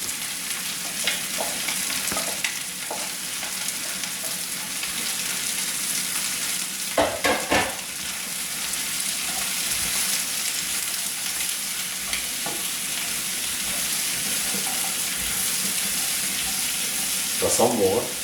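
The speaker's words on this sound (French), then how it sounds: "vous faites bien revenir la garniture aromatique" Aromatic vegetables sauté in butter in a pan for prawn spaghetti. A steady, soft sizzle runs throughout, broken by occasional stirring scrapes and clinks. A few louder utensil knocks come near the middle and the end.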